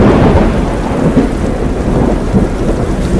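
Heavy rain pours steadily with deep rumbling thunder during a Dubai storm, a dense, loud wash of downpour with low rolling booms underneath, continuous throughout and without speech.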